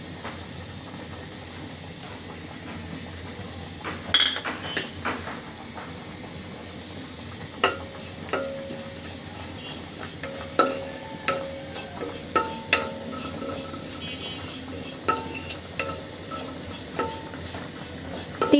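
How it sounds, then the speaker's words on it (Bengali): Sesame seeds roasting in a hot wok, a soft crackle with repeated scrapes and taps of a utensil stirring against the metal pan, close and fairly quiet, with no talk. "তো এদিকে তিলটা ভাজি করার জন্য কড়াইটা বসিয়ে দিয়েছি"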